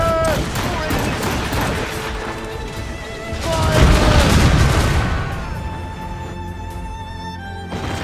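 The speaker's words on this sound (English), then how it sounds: "Cannon! Fire!" Ship cannons firing in an Assassin's Creed naval battle, a loud dense barrage of booming blasts layered over continuous rumble and game music, swelling to a heavier volley midway.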